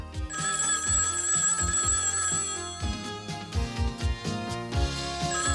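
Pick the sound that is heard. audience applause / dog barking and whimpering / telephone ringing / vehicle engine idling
telephone ringing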